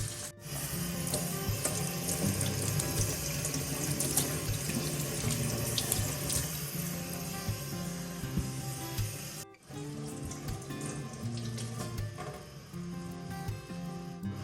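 Steady running water from a tap splashes continuously into a sink while salmon is rinsed, with a brief break before the flow resumes.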